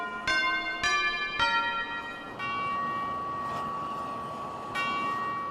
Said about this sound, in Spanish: el sonido de las campanas